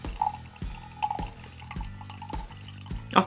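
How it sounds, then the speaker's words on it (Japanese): Hot water drips and trickles through a ceramic coffee filter into a vessel below, a steady run of small, soft liquid taps, close and quiet, with a louder clink near the end and no talking. "しっかりお湯が通っている"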